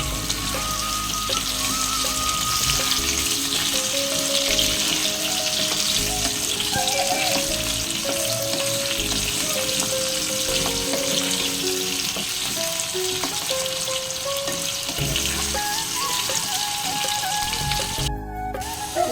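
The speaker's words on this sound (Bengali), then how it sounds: "এবার ওই তেলের মধ্যে পেঁপে আর আলুগুলো ভালো করে ভেজে নিই" Papaya and potato pieces frying in hot oil for an egg curry, giving a steady, close sizzle that runs unbroken throughout, with faint stirring noises over it.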